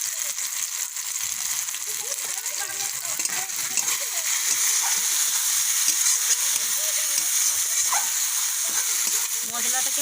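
Spices sizzle and fry with chopped tomato, ginger, garlic and onion in a pan for a mustard koi fish curry, a steady close crackle with soft stirring scrapes.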